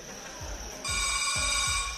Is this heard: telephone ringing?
yes